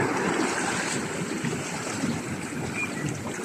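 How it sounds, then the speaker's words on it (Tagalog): Waves surge and wash against a seaside pier as an arriving ferry stirs the water, making a continuous, loud, broadband rush with no voices over it. "hampas ng alon kasi dumating nga yung ferry"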